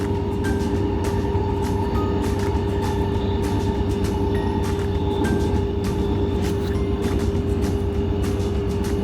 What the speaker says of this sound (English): This is normally just a commuter train for all those people living here and working in the bigger cities